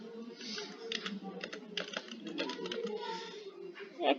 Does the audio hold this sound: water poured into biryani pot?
no